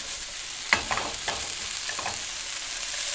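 Whole garam masala, including cumin, cloves, black cardamom and black pepper, sizzles softly in hot oil, with a few brief stirring taps over a steady frying hiss.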